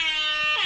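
A loud, sustained air horn blast from a hip hop air horn phone app, with a bright, brassy tone, sounding alone and close.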